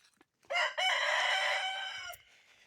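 A rooster crows once, a loud, drawn-out call close by, with a faint rustle before and after.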